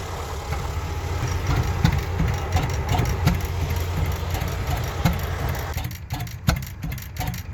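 An old Fairbanks engine at a pioneer threshermen's harvest festival runs with a steady low chugging drone throughout, moderately close and loud, with outdoor background noise and no clear voices.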